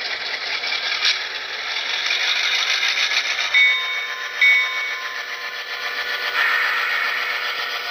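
HO scale Intermountain FP9 model locomotive with DCC sound creeping forward, giving a steady, rattling, mid-pitched mechanical whir with faint tonal whines and a couple of brief louder bumps, close and continuous.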